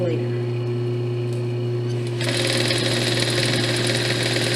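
A sewing machine stitches around a stretchy fabric headband, starting up partway through with a dense, steady mechanical whir over a constant low hum.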